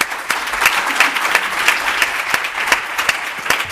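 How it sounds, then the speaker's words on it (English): Applause for an international panel at the close of a U.S. food waste summit session, with brisk, closely spaced claps standing out in a steady, fairly near wash of clapping. "so let's give our international panel a big round of applause."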